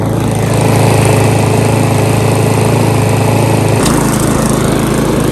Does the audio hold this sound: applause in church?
no